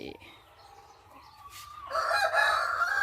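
A rooster crows loudly and close by, one long rising call with a strained, raspy tone and no talking over it.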